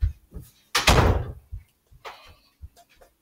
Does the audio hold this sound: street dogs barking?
no